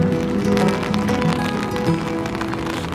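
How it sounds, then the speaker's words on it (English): Rain begins falling outdoors, a dense steady patter of drops hitting surfaces, loud and close throughout with no talking. "It started raining."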